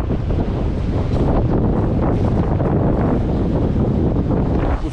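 Strong wind buffets the microphone in a dense roar over crashing surf on a rainy shoreline at Skinningrove, loud and continuous throughout.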